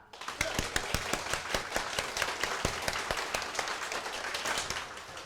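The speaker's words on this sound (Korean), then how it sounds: "박수 시작!" A crowd claps at an event, its steady applause punctuated by sharp individual hand claps, continuous for several seconds with no talking over it.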